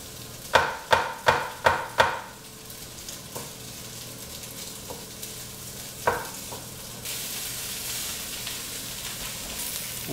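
Ingredients for a spaghetti sauce browning in a frying pan, a steady close sizzle broken by a quick run of sharp scraping stirs at the start and a few scattered clacks of a utensil against the pan.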